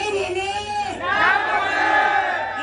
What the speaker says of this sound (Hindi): देख सकते हैं कितना खतरनाक भीड़ है, पूरा स्टेडियम फुल हो चुका है